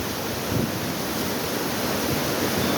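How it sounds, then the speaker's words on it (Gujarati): A dense, roaring wash of heavy rain mixed with gusting wind in Udhna, Surat, Gujarat, loud and continuous throughout with no voices. "બહુ વરસાદ ભાઈ, બહુ વરસાદ."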